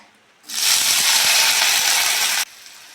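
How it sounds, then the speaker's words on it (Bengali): Chopped onion dropped into hot oil bursts into a loud, steady hiss that holds for about two seconds, then falls away abruptly to a quieter background. "তেলের মধ্যে প্রথমেই দিয়ে দেবো কুচনো পেঁয়াজ"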